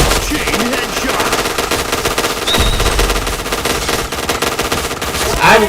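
Rapid automatic gunfire rattles almost continuously from start to finish in the PointBlank shooter video game, close and loud, with dense bursts and no pauses long enough to hear silence.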